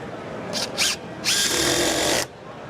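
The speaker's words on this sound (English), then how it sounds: "And then we'll go to the second generation of M18 Fuel Surge." A second-generation Milwaukee M18 Fuel Surge impact driver runs in two quick bursts followed by a sustained one, giving a close, steady mechanical whine that is somewhat subdued.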